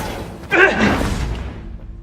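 A fist punches through a wall: one sharp, heavy impact with a short crunching burst, followed by a fading rumble of debris in a close indoor space.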